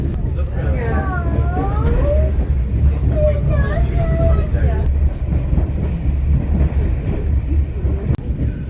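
A steam train from Paignton to Kingswear rumbles steadily along, with a loud low drone and squealing tones early on, and a voice announcing over the noise.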